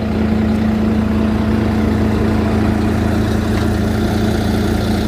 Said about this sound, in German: Ich gehe mal ganz nah an den Motor dran.